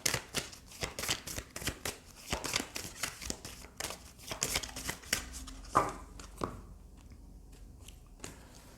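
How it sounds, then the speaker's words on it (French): Oracle love cards being shuffled by hand, a rapid run of crisp riffling flicks close up that slows to a few soft taps and slides at the end. "on va prendre quelques cartes du compte oracle de l'amour"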